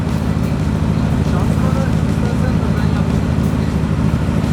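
A racing winch motor runs with a loud, steady, close mechanical drone that holds evenly throughout without any break.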